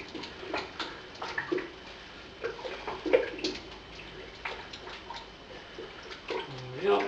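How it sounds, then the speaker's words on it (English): Pale ale malt grain stirred into water with a paddle, giving soft, irregular sloshes and wet scrapes, close and moderately loud, with someone talking in between. "Give that grain a bit of a stir."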